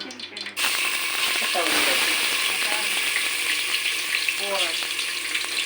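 Coriander, ginger and garlic hit hot oil with a sudden loud sizzle that keeps crackling steadily, with stirring and some talk over it.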